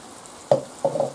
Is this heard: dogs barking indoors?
no